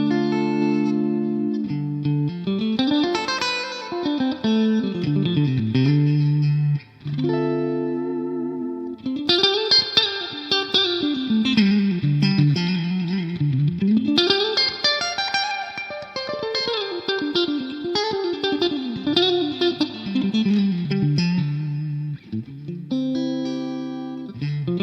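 Clean electric guitar, a 335, played through an amp into a 2x12 Vox cabinet miked with a dynamic 57, melodic lines and chords with a wide reverb tail and a shimmering chorus-like wash, loud and alone.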